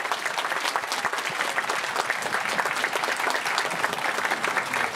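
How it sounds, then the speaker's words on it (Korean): Wedding guests applauding at a traditional Korean wedding ceremony, a loud, continuous, dense clapping from a crowd holding steady throughout. "다시 한번 큰 박수 보내주시기 바랍니다"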